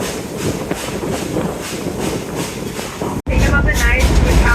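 A zoo train at Omaha's Henry Doorly Zoo rolls around a bend with a steady, loud rumble and rhythmic rail clatter, cutting off briefly before a heavier, closer roar.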